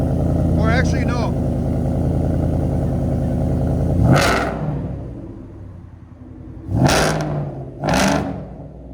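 A supercharged 850+ hp Ford F-150 with a 5.0L V8, headers and Black Widow Race Venom exhaust rumbles at idle, then blasts out three sharp, loud revs in quick succession, with talking early on.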